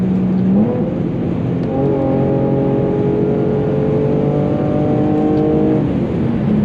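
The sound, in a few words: sports car engine revving, rev matching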